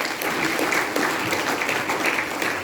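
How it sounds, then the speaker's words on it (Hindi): Audience applause at a wellness company closing event, dense steady clapping from a crowd, loud and close, lasting the whole moment without talk. "महागुरु जी के लिए जोरदार तालियां बजाइए"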